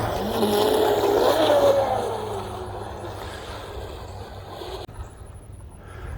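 RC boat with a stock 2000kv 3650 motor and upgraded ESC on a 4S battery at full throttle, a high whining motor that climbs in pitch, then fades as the boat moves away over water, with a faint sharp tick near the end.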